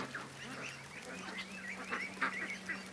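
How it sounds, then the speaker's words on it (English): A goose mixed among Canada geese gives repeated honks at a middle distance, the calls rising over a busy outdoor din of other waterfowl. "Oh, actually, it might be a goose."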